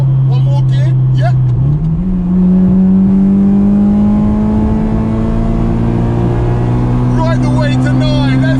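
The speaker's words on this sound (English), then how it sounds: "the exhaust noise dominates" A 1990s Honda Integra DC2 Type R accelerates hard through the gears from inside the cabin, its engine note and exhaust climbing steadily after a quick shift. A voice speaks briefly over the loud, rising drone.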